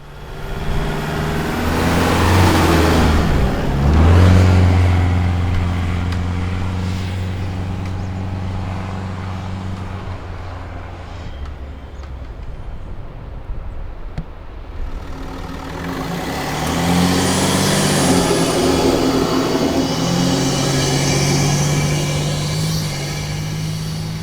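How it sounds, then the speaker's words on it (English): Ford Ranger and Isuzu D-Max 4WDs climbing a soft sand dune at Yeagarup in Australia, engines droning loud and steady, swelling and easing as they labour uphill, with no talk. "Let's get the Ranger and the D-Max up the hill."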